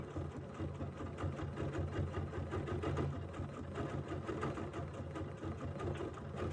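A sewing machine runs steadily while stitching couching fibers onto fabric to fill a petal design, a continuous close whir with a low motor hum and no talk.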